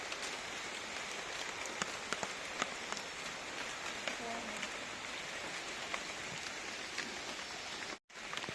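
Heavy rain pours steadily on a forest, a dense hiss with scattered louder drips and patters throughout, briefly cutting out near the end.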